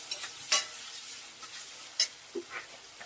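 Ground spices such as coriander powder fry in a pan for a drumstick egg masala curry, giving a faint, steady sizzle broken by a few sharp clicks of stirring.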